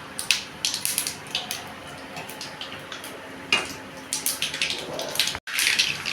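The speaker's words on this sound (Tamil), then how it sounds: "இந்த பக்கம் பானை வச்சு எண்ணெய் ஊற்றி கடுகு போட்டிருக்கேன். கடுகு பொரியட்டும்." Mustard seeds splutter in hot oil in a pot while cooking Coimbatore green gram kuzhambu, giving scattered faint crackles and small pops that keep going irregularly over a soft background hiss.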